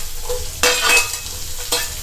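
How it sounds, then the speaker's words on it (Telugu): Onions and green chillies fry loudly in a hot pan while a spoon stirs them, producing bursts of scraping and hissing sizzle over a constant close crackle. "ఇవన్నీ ఎర్రగా అయ్యే వరకు కలుపుతూ ఉండాలి"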